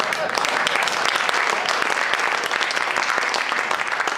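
Dense audience applause at a live magic show by a theatre troupe, steady crowd clapping throughout the short stretch with a faint murmur of voices beneath it.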